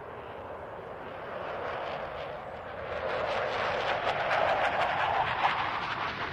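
A Eurofighter Typhoon jet flies a slow roll at an air show, its engine a steady broadband roar that swells gradually louder as it passes, with no speech.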